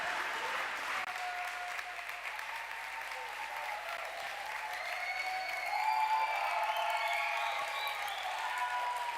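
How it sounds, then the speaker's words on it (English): Sustained audience applause at a university Solar Decathlon peer review event, dense steady clapping from a crowd that swells slightly toward the end, with no talk over it. "That's your applause."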